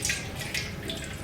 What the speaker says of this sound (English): I'm pouring water all over my hand.